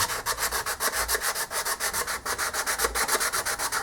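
Rhythmic back-and-forth sanding inside a wooden foot pattern, steady scratchy strokes repeating about four times a second, close and alone.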